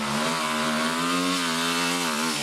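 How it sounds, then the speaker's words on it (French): A loud enduro motorcycle engine revs steadily and climbs in pitch as it pulls hard in second gear up a climb, close and continuous. "avec ma moto, je mets la seconde vitesse"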